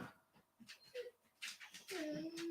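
A dog whimpers and gives short, faint yips and whines, quiet and somewhat distant, with a person talking softly now and then.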